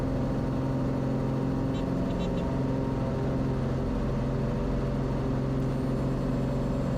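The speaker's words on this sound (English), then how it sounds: "Airspeed's alive, making full power, making more than full power." A small airplane engine runs at full power on the takeoff roll, a loud, steady drone that holds unbroken from start to finish.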